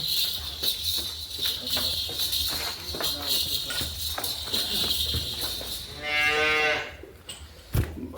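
A buffalo on a dairy farm lets out a long, loud moo near the end, after a stretch of bustling outdoor noise and background chatter.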